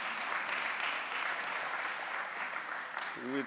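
Steady round of audience clapping at a business conference, dense and even throughout, with a voice starting to speak just at the end.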